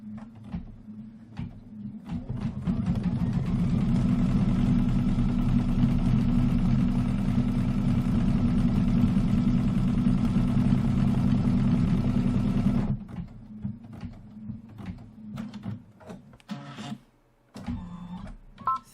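Embroidery machine stitching a Kimberbell pillow wall hanging project, a loud steady mechanical whirring with rapid needle rhythm running continuously for about ten seconds, then stopping abruptly, followed by quieter handling noises.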